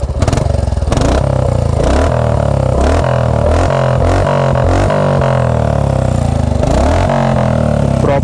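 A BS6 Royal Enfield Classic Reborn 350 motorcycle fitted with a short Punjab-style exhaust and cat can revs hard and repeatedly, loud and close, with deep thumping bursts rising and falling, no talking.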